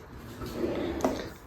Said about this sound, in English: They go soft close, boom. Same thing with the drawers.